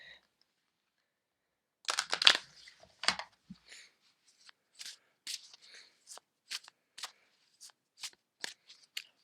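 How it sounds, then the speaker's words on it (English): A deck of oracle cards being shuffled close by in a quiet room, a dense riffle followed by a series of separate soft slaps and flicks as the cards are cut and shuffled again. "I am going to begin to shuffle the cards."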